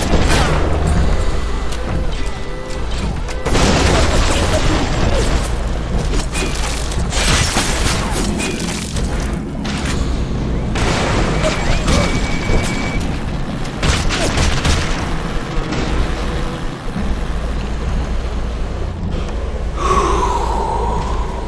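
Fiery crossbow bolts burst in Bioshock Remastered, a run of dense, loud booms and crackling blasts layered over a constant game din, with the clatter of combat carrying across the whole stretch.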